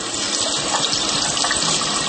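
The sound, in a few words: water running from a tap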